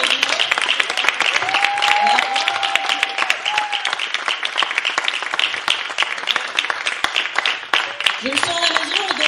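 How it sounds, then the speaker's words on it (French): A church congregation applauds the pastoral couple at an anniversary Sunday service, steady close clapping filling the room for the whole stretch, with brief tonal notes and murmured voices underneath. "qu'on les applaudisse encore bien."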